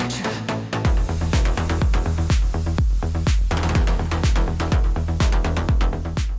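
A signature melodic techno synth plays as a loud, punchy rhythmic sequence of sharp plucked stabs, with deep bass notes pulsing beneath in a steady driving groove and no voices.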